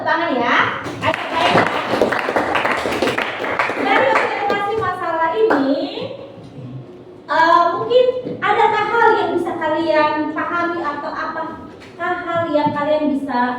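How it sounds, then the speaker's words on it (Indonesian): Students in a classroom clap in a burst of rapid hand claps during the first few seconds, then children's and a teacher's voices take over, with more scattered clapping mixed under the talk. "Kita tepuk tangan ya"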